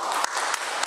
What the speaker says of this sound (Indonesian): Tepuk tangan untuk kepala Kampung